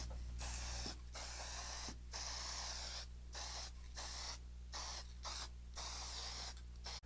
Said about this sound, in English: I think I'm gonna spray it and I'm gonna go for it